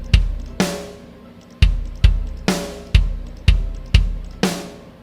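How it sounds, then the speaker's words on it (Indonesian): Punchy EZ Drummer 2 virtual kick drum hits in REAPER in a steady, slightly uneven pattern, about ten strikes with short decays, loud and close with no voices. "Udah bunyi bass drum"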